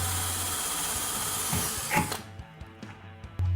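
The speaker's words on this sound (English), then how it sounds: "drill the second hole." Power drill boring a screw hole through a door frame for a door closer, a steady high whirring motor that cuts off partway, followed by light handling clicks and a brief restart, close and clear.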